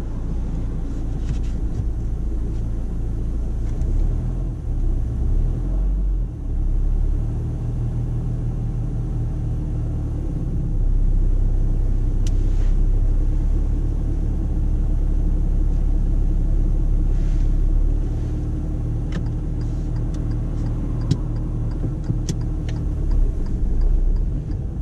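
A learner driver's car pulls away during a driving lesson, heard from inside the cabin as a steady low engine and road rumble that stays even throughout, with no talking.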